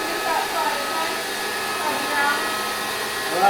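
Electric mixer beating eggs for a traditional French soufflé, giving a steady, close whirring drone that runs unbroken for the full few seconds.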